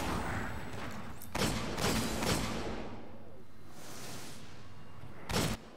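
Gunfire in the Destiny video game, several loud bursts of shots at spaced intervals over a rushing background of game sound, with no talking.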